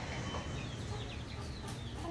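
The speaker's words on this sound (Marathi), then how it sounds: "हे बघा ही गावरान कोंबडी बघा कशी आहे।" A desi country hen (gavran kombdi) clucks faintly amid a dense, noisy farmyard background, with soft short calls repeating over about two seconds and no voices.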